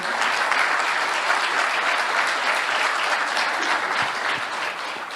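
Steady, dense applause from a forum audience on mental health fills the hall, even and continuous, easing slightly toward the end.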